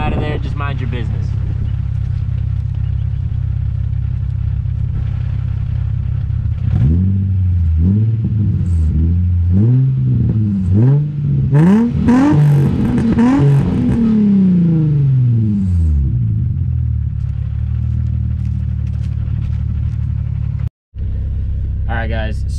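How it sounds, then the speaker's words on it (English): Infiniti G35 sedan with a loud aftermarket-style exhaust, revved repeatedly in sharp rising and falling sweeps over a steady idle rumble, close to the microphone, then settling back to idle. "Big YouTuber, you know, recording exhaust clips."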